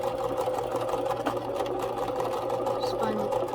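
A sewing machine runs steadily, stitching thick fabric for a pet Christmas stocking at slow speed, with a constant motor hum and needle rattle throughout, loud and close.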